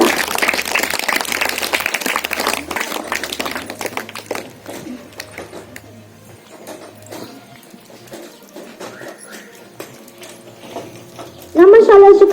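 At a school Teachers' Day celebration, an audience claps a teacher onto the stage with a burst of brisk applause that fades after a few seconds, followed by quieter hall sounds and a voice.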